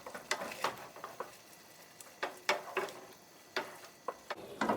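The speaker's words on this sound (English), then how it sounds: "I'm going to add my ricotta cheese, and I'm going to mix it well with the sauce" Ricotta cheese being stirred into a vegetable pasta sauce in a pan, with a series of soft scraping, clicking strokes and light sizzle at an uneven rhythm, close and moderately quiet, no talking.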